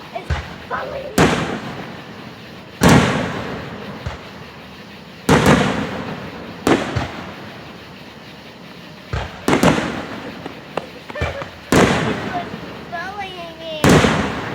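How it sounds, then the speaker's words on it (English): Fireworks at an early July display in Vian, Oklahoma burst in loud, sharp booms every second or two, each trailing into a crackling rumble, with people talking between the blasts. "The fireworks is following me."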